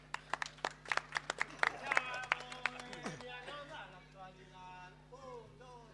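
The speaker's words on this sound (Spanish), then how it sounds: "Fuerte el aplauso." Audience applause at a murga carnival performance, with sharp clapping bursts in the opening seconds that fade into crowd murmur and a voice talking underneath.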